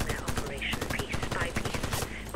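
Rapid automatic gunfire bursts rattle through a session of the shooter game Warface, the shots coming in quick repeating volleys with a busy backdrop of game effects and tones.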